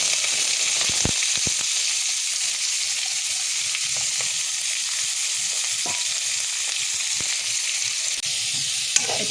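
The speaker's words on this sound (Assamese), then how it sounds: "এতিয়া কলডিলখিনি মই ভালকৈ অকণমান সময় ভাজি ল'ম" Chopped banana flower fries in a pan with a steady, bright hiss of sizzling oil, loud and close, broken by occasional sharp crackles and a soft scrape or two.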